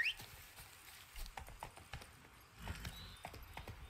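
Horse hooves clip-clop in a steady, rhythmic gait while riding in The Witcher 3, soft and fairly faint over a quiet ambient background.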